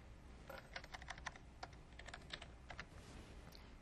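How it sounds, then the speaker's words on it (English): A name being typed on a computer keyboard, with a quick, faint run of irregular key clicks and taps over a low background hum. "I would type in the person's name"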